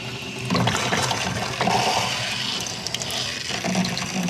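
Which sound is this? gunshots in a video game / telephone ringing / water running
water running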